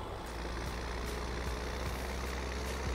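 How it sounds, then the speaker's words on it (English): A tractor engine in Farming Simulator 17 drones steadily at idle with a deep, even rumble and faint periodic ticks, heard alone throughout. "Oh, I love the sound of the engine on this tractor."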